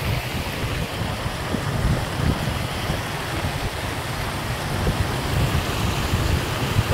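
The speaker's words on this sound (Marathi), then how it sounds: "बघा पूर बघा." A river swollen by flooding after heavy village rain, its water rushing in a steady, loud, dense roar with wind buffeting the microphone throughout.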